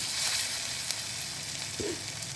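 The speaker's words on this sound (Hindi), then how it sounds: "तो ऑयल हमारा अच्छे से गर्म हो चुका है। तो अब हम इसमें अपने कबाब बना के डालते हैं।" Vegetable kebabs sizzle and crackle as they fry in hot oil, a dense continuous sizzle heard close and fairly loud, with a brief soft knock partway through and no talking.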